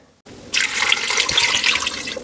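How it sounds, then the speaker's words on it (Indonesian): Water poured into a pressure-cooker pot of goat meat and cut potatoes: a brief faint hiss, then a steady, close, splashy stream that runs without pause to the end. "Lalu saya tambah air."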